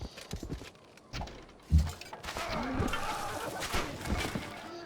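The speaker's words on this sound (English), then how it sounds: "I hate hearing the sounds of horses being hurt" Horses are hurt in battle in Civilization V, with clip-clop hooves, scuffles and faint whinnies rising out of a busy game soundscape.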